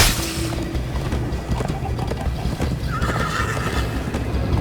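In the game Minecraft Story Mode, a horse gallops with rapid clip-clop hoofbeats under a loud, rising whinny in the middle, alongside steady ambient game noise.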